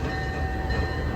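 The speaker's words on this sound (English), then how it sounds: "And the train's going." An amusement park train ride departs at Busch Gardens Tampa Bay, a steady low rumble of rolling wheels and carriages with a faint horn-like tone, close and continuous with no talk.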